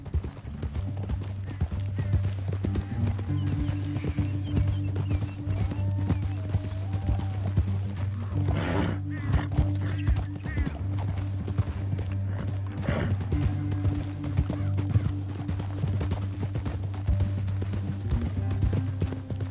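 Horse hooves gallop in a steady, continuous clip-clop rhythm while riding in the video game Red Dead Redemption 2, loud and close, with a music bed underneath and brief louder bursts partway through.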